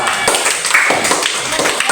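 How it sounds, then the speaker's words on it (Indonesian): A classroom of students claps for a presenting group, brisk mixed hand claps filling the room at close range, with voices murmuring underneath. "tepuk tangan dulu untuk kelompok 3"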